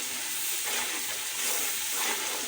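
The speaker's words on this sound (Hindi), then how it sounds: "मसाला अच्छी तरह भून लेना है" Spices sizzling as they are fried in a pan for aloo matar rice, a steady close hiss and crackle throughout with no talk.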